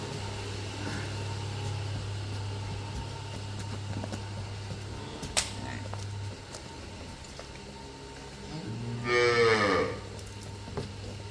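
A water buffalo on a dairy farm lets out one loud, close moo near the end, over a steady low hum and quiet farmyard background.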